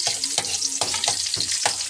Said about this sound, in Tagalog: Unahin na po natin mga lods ang mantika, luya mga lods. Sunod natin ang bawang mga lods